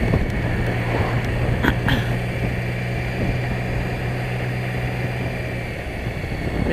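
A BMW K75 motorcycle with a 750cc, 75-horsepower engine hums at a steady pitch while being ridden, its continuous drone mixed with broadband wind rush that stays constant throughout.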